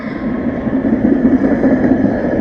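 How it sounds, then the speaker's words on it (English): A tram passing on a street in Prague: a steady low rumble and rolling hum, fairly loud and close, swelling slightly as it goes by, with no talk. "That's an interesting looking tram there."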